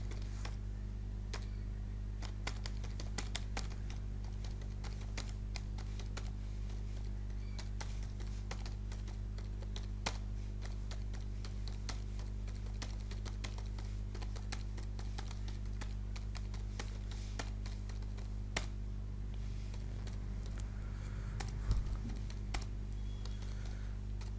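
Steady typing on a computer keyboard while writing in MS Word, faint soft key clicks in an uneven rhythm over a low constant hum, with no talk.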